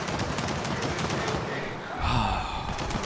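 Sentry turret gunfire during a horde night in a survival video game, a sustained rattling stream of rapid automatic shots followed by a heavier burst, with shouting voices mixed in.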